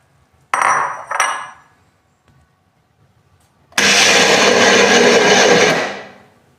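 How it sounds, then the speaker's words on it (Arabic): Blender grinding apple, cucumber, peeled-free whole lemon with rind, and cold water: two brief whirring bursts, a pause, then a loud sustained grind of about two seconds that winds down. "غنطحن كلشي في الخلاط"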